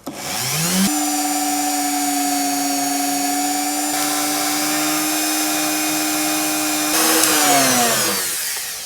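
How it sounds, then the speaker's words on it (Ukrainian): A Dremel rotary tool fitted with a brush whirs at a steady high-pitched whine while cleaning the valve seat of an Oleo-Mac PW 110 C pressure washer. The motor spins up, runs loudly and evenly, then winds down, with no speech. "Будемо зараз вмикати дремеля і чистити місце під посадку клапана."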